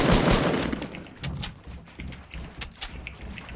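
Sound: gunfire in the video game Fortnite

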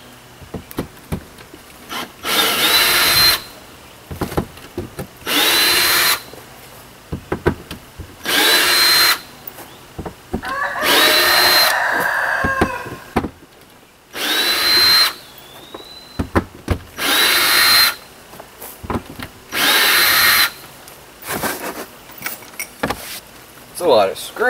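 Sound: power drill removing screws from camper

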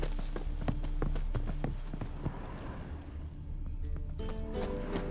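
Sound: horses galloping with hoof clip-clop, from video game The Witcher 3

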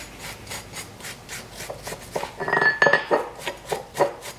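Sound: wire brush cleaning axle shaft yoke

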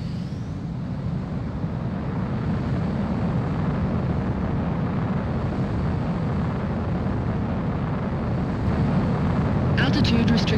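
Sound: Mobius One's fighter jet taking off in Ace Combat 04 video game

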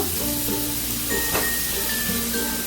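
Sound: garlic frying in oil, sizzling

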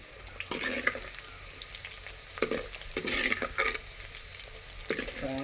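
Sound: garlic and shallots frying in fish-frying oil, clay pot

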